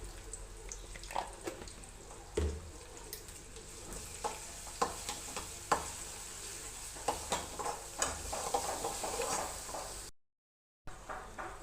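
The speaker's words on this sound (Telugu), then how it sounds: "ఉల్లిపాయలు వేసుకున్నాను ఉల్లిగడ్డలు ఆయిల్ వేడెక్కినాక పసుపు వేసుకొని కొంచెం అల్లం పేస్ట్" Sliced onions sizzling in hot oil with turmeric and ginger paste, a steady crackling fry broken by louder scrapes and clatters of stirring, close and fairly quiet, with a brief dropout near the end.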